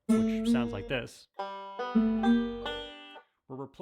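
Banjo picking an alternating thumb roll, bright plucked notes ringing in quick clusters, two short phrases separated by a brief gap, close and clear with no talking.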